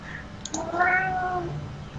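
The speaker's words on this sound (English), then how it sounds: "Did you hear my cat?" A cat gives a single drawn-out meow, close and clear over a faint steady background hum, with no talking.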